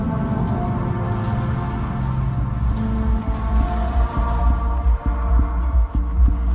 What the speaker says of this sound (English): A new sound enters into the mix, like a heart pounding.